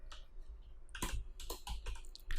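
Keys clatter in quick, uneven bursts on a computer keyboard during HTML coding, with several sharp clicks close and clear over quiet room tone.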